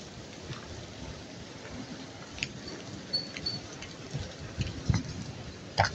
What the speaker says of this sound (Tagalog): Patakbo na guys kasi umuulan.